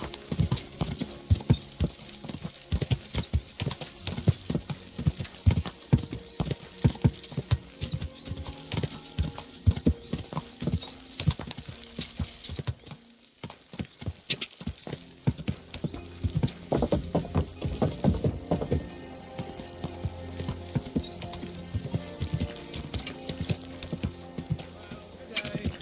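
A horse gallops in the video game Kingdom Come: Deliverance 2, with rapid, loud hoofbeats clattering in a continuous rhythm, a brief pause midway, and occasional whinnies, while a voice speaks over it.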